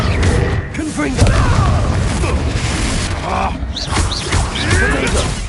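Fiery Confringo blasting spells burst repeatedly during Hogwarts Legacy combat, loud booms and crackling impacts over a dense, busy layer of game effects and clatter.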